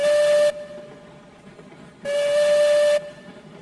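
Steam locomotive whistle in the train game Railroads Online: two loud, steady tonal blasts with a hissy edge, a short one and then a longer one, separated by a quieter gap of low rumble.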